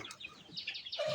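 Chickens about 64 days old on a poultry farm give a brief, faint burst of clucks and soft calls, heard close by in a short moment without talk.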